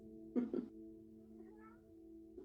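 A house cat gives two short meows close by in a quiet room during a yoga class, then falls silent over a steady low hum.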